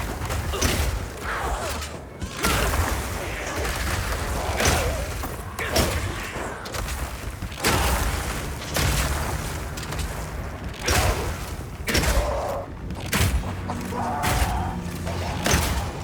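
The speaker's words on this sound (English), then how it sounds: "then shoot them with armor-piercing Burst Shot for a huge amount of damage" Armor-piercing Burst Shot strikes on ice walls in Path of Exile 2 land as a dense run of loud booms, thuds and crackling impacts, repeated throughout in quick bursts with creaking mechanical layers between them.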